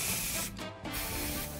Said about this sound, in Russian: Акриловые краски в баллончиках хороши тем, что они легко наносятся и быстро сохнут